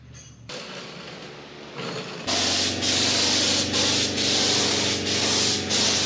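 Steady hiss of a spray gun laying a first coat of paint on the drawbar of a 1939 Caterpillar D4 crawler, starting softer then becoming a loud continuous spray with brief pulses as the trigger is worked.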